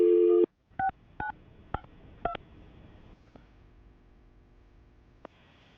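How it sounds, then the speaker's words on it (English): A telephone number is keyed in as a sequence of DTMF tones: a short steady tone, then several crisp separate beeps at uneven intervals, with one final beep after a quiet pause, clear and close. "I'm going to dial the number right now"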